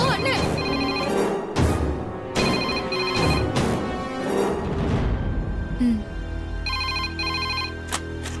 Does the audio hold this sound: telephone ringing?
yes